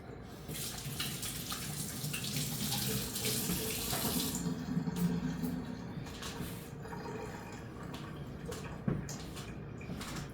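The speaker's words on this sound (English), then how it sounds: "So I wash my hands." Hands being washed under a running kitchen tap: a steady splashing stream of water with rubbing and sloshing, close and moderately quiet, continuing throughout with a small clunk near the end.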